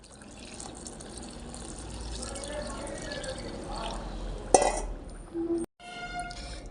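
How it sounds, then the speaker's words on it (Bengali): Hot water pours into a flour mixture with chili seeds, cumin and salt, a steady rushing trickle that builds gradually, ending with a knock and a short break before a faint continuing hiss. "এর মধ্যে এবার আমি গরম জল ঢেলে নেব"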